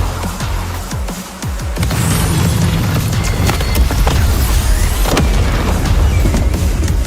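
Deep booming blasts and crackling bursts, loud and close, layered in a dense, continuous rumble of animated explosions.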